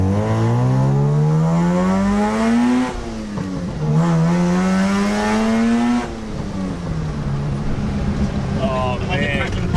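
A Mazda RX3 with a carbureted 12A rotary engine revs up hard, close and loud, in three rising pulls. The exhaust crackles as the revs fall, with voices under the engine noise.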